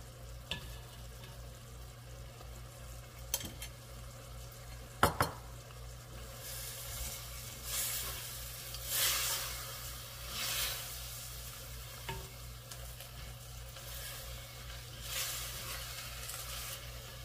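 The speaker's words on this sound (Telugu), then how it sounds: "దీంట్లో ఇప్పుడు ఒక టేబుల్ స్పూన్ అంతా గీ వేసుకుంటాం." Ghee sizzling in a pan of beetroot biryani, a low, steady frying hiss that runs throughout, close but quiet, with a few sharp clinks of a spoon against the pan and louder bursts of sizzle in places.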